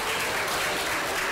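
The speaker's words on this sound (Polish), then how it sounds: "wielkie brawa" Steady, dense applause from a live audience at a lookalike show in Opatów, continuous and fairly loud throughout the short moment with no voices on top.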